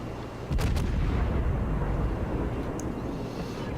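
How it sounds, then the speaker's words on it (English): Armor-piercing naval shells fire in the World of Warships video game, a heavy booming salvo that erupts about half a second in and rumbles loudly and continuously afterward, with a faint sharp report near the end. "And there comes some arm-piercing shells."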